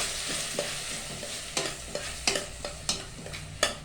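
Moong dal lentils fry in a pan for a bottle gourd and green chili dal curry, a soft steady sizzle broken by several sharp scraping stirs of a spoon at irregular intervals.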